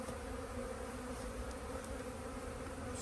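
Honeybees hum during a beehive inspection, a steady, close, continuous drone of many wings holding a constant pitch, with faint handling noises and no talk.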